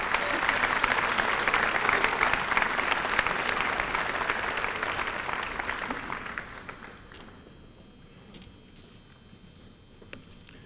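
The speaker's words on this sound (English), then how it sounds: "Let's give him a round of applause." Audience applause at a 1993 high school senior academic recognition ceremony, a steady wash of many hands clapping that tapers off and dies away over the last few seconds, leaving a quiet room.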